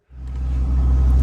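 A 4th-gen Ram truck cruising down a neighborhood road, its engine rising from silence into a loud, steady low rumble close by.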